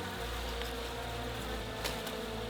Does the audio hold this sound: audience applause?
no